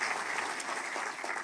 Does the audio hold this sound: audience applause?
yes